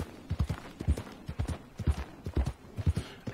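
Horse hooves clip-clopping in a steady walking rhythm while riding along a lakeshore in Red Dead Redemption 2, close and clear with no talk over them.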